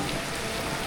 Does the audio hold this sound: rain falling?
yes